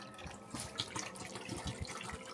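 A pet cat laps water from a dish at close range, with soft irregular wet splashes and drips, faint and quiet with no talking.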